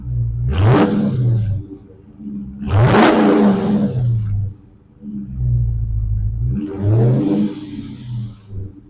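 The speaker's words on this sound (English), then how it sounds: "I'm going to give you an exhaust clip of this car" Dodge Charger R/T engine revving hard three times, each loud throaty roar rising and falling, with a deep idle rumble underneath between the blips.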